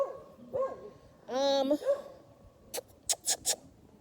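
A mongrel dog in Jamaica gives a few short whimpering barks, then a quick burst of sharp yelps close by, with a person speaking in between.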